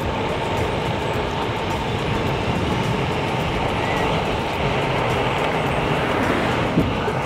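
Steady wind roar and rolling rumble from a Gotrax G4 electric scooter gliding downhill, a continuous loud wash without breaks.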